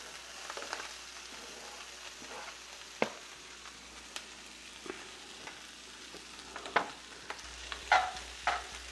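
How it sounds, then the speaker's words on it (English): Green peppers and scallions frying in a pan for Korean corn cheese, a continuous bright sizzle with scattered crackles and occasional utensil taps, close and moderately loud; no voices. "Let that fry a bit."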